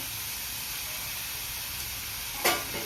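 Shepu (dill greens) and vegetables steam in a covered pan over low gas, giving a steady soft hiss with one brief, sharper puff of vapour near the end.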